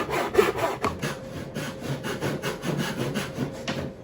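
Rhythmic back-and-forth strokes of a hand saw cutting through wood, steady and close, with no talking.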